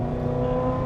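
A Ferrari engine with a high-frequency racing exhaust revs in a brief, sustained intense roar, loud and close with no one talking.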